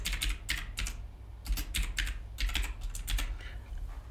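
Rapid keystrokes on a computer keyboard while text is entered in Microsoft Word, clustered bursts of clicks close to the mic over a low steady hum, with no voice.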